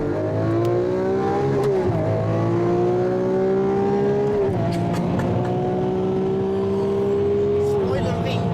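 A car, an orange world record edition, accelerates at full throttle with a loud, sustained engine drone that climbs through several rising gear pulls with brief breaks between them, while people talk over it.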